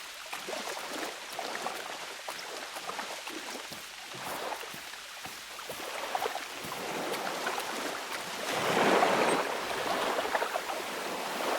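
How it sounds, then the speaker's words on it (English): Steady rushing water from a stream in a wilderness hunting game forms a continuous broad wash that swells louder toward the end, with no talking. "Wow, that water is loud."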